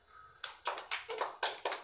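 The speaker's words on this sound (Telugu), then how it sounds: "క్లాప్స్." A few people clap their hands during a children's naming game at home, giving six or seven sharp, separate claps in an uneven rhythm, close by and fairly loud, with no talking over them.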